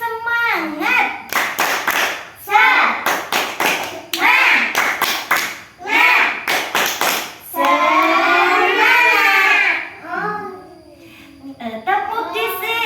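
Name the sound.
children's rhythmic clapping game 'tepuk semangat'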